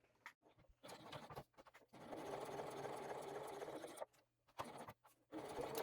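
Sewing machine topstitching the side seam of a small crossbody bag, with steady bursts of stitching separated by short pauses, including a long continuous run in the middle, close and fairly quiet with no talking.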